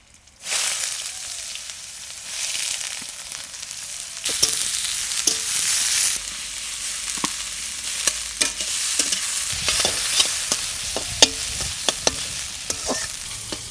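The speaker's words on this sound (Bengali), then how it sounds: "পেঁয়াজটা আস্তে আস্তে ভাজা হোক" Onions fry gently in a pan with nigella seeds and garlic, giving a continuous close sizzle. Scattered sharp clicks and scrapes of stirring run through it, and no one speaks.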